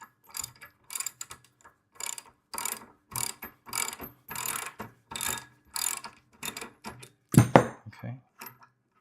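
A ratchet loosens an 18 mm bolt on the handle of a VEVOR gas plate compactor, heard as repeated bursts of quick clicking, about ten strokes with short pauses between them, close up and ending in a louder clunk.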